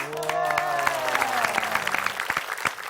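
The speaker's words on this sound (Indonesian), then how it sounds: "Tepuk tangan dulu dong." A studio audience at an Indonesian TV show claps through a short burst while a voice and tonal sounds ring out over the applause.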